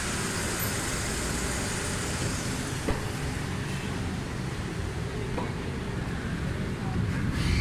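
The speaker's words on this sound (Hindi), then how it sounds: "देखें मिसिंग आ रही है, फक फक फक फक आ रही है" Suzuki Alto engine idling with a misfire and blackened silencer, a steady rough drone with faint irregular puffing, close and continuous amid background road noise.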